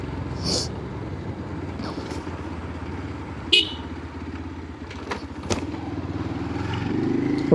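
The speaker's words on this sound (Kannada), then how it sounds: "ಇಲ್ಲೊಂದು ಗಾಡಿ ಬಂತಲ್ಲ ಈಗ" A motorcycle or car goes by on a road during a motorbike ride at a coastal festival, with horn toots and engine noise under steady road rumble that swells toward the end.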